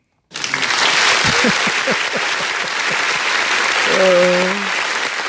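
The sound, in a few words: applause sound effect from a button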